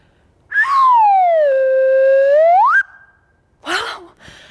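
An ancient Egyptian whistle sounds a loud sliding tone that swoops down, holds, then rises sharply before cutting off, followed by a couple of shorter breathy bursts.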